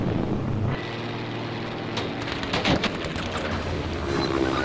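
Spitfire Mk VA guns in the Battlefield 5 video game fire in rapid bursts of machine-gun rattle over a constant rush of engine and wind noise, loud and near, with no voices.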